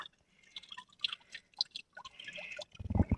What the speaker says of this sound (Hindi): ये रहा हमारा डांगरों के लिए पानी का स्रोत, यहाँ से निकल रहा है पानी।